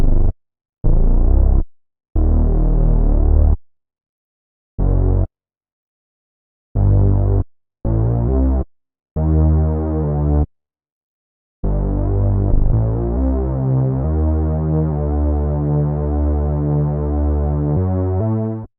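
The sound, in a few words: Moog-style synth bass line, analog preset with distortion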